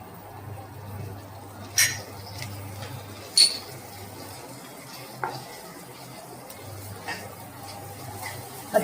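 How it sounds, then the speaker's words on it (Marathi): Homemade masala with Kashmiri chili powder and garam masala sautés in a pan for egg curry. A faint, steady sizzle runs throughout, broken by occasional clinks and scrapes of a spoon against the pan. "आता आपण हा मसाला परतून घेऊ, म्हणजे त्याचा कच्चेपणा राहणार नाही"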